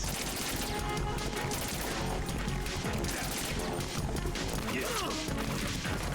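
Gunfire from the video game Metal Gear Solid 2: Sons of Liberty crackles in dense, continuous bursts over a busy, loud game soundtrack, with impacts and mechanical clatter mixed throughout.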